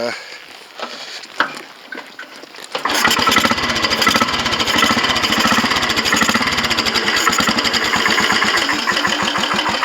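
A Royal Enfield motorcycle is heard on a short test ride: after faint handling noises, the single engine fires up and settles into a loud, steady thumping idle with a rapid, regular pulse.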